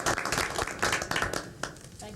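Brief scattered hand clapping from the audience at a school board meeting, a few seconds of uneven claps fading out, with talk in the room.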